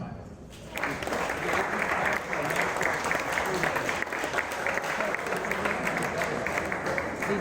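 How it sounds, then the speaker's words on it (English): Clapping from a group of girls at a Bowerman track camp rehearsing a Titanic recreation for a talent show, beginning after a short quiet moment and continuing as steady, dense applause with voices mixed in. "Everybody clap for that."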